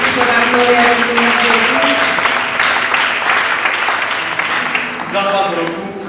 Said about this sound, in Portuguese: aplaudimos pela glória do Senhor